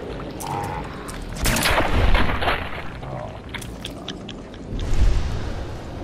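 Gunfire in the video game Fallout 4, with a couple of loud booming shots over a continuous noisy game background.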